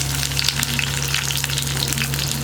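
Onion and dried red chillies frying in a pan, a loud, dense, unbroken sizzle heard up close with a faint low hum underneath.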